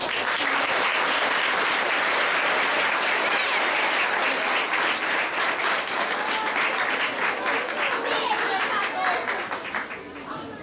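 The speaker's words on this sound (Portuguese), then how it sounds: "damos uma salva de palmas" At a school Mother's Day tribute, a roomful of students and guests applauds loudly and continuously, a dense wash of clapping with crowd murmur underneath that fades slightly at the end.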